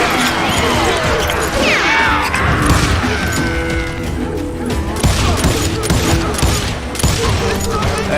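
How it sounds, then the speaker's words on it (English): Rapid gunfire crackles through a chaotic Red Dead Redemption 2 shootout, dense overlapping shots and impacts with shouted voices under the din throughout. "Fire at will!"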